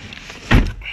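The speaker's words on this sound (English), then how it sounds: "These automatic doors are like, they're not really automatic." A single short whoosh and thump as automatic sliding doors open slowly, close and fairly loud, with no talking.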